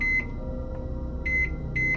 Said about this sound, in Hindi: ये माइक्रोवेव की आवाज थी, जैसे कोई उसके बटन दबा रहा हो।